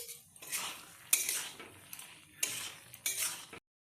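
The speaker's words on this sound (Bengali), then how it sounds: "2 মিনিট পর কড়াইয়ের ঢাকনি খুলে একটু নাড়াচাড়া করে নেওয়া হবে।" A metal lid lifted off a wok, then a spoon clanking and scraping while stirring mixed vegetable curry; several distinct sharp clatters in short bursts, close and fairly quiet, with no talking.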